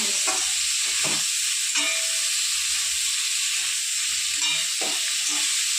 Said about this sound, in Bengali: এটা অনেকটা ভাজা ভাজা হয়েছে আর একটুখানি ভেজে তারপর আমি নাম